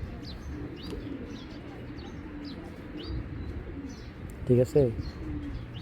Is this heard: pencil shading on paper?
no